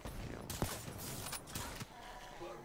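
Gunfire from shotguns in the Black Ops 3 multiplayer game, several sharp blasts scattered across a busy, noisy match mix with a muffled voice in the background.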